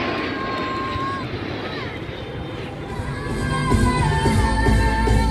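A military jet roars at an air show while flying an aerobatic loop, a broad engine rumble that rises and swells toward the end, with a commentator speaking over it and crowd noise around.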